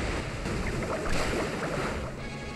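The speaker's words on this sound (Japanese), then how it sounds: "そして水の波動もう一発。" Water Pulse attack effect from the Pokémon X video game, a dense, whooshing surge of watery noise that swells briefly and stays fairly loud throughout, without speech.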